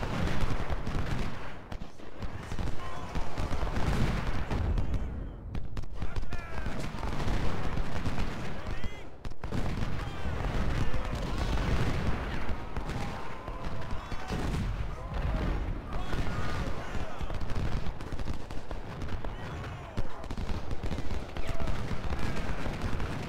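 Continuous massed musket and cannon fire from a Civil War battle at Cold Harbor in Ultimate General: Civil War, a dense, loud rolling din with overlapping shots throughout and a voice talking over it.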